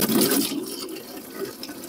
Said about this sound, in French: pour terminer le remplissage de l'arrosoir, on va utiliser de l'eau de pluie ou de l'eau du robinet si vous n'avez pas d'eau de pluie